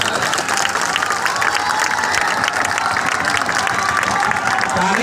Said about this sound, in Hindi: अब जिसको जिसको ताली बजाना है वो बजा लो